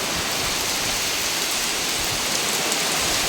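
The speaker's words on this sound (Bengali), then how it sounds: "বাইরে প্রচুর পরিমাণে কিন্তু বৃষ্টি হচ্ছে।" Steady, dense heavy rainfall pouring down near a beach, with a constant hiss, heavy and close, with no voices or other sounds over it.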